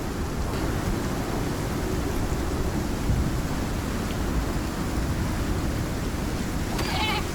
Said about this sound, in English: The storm is gonna be bad.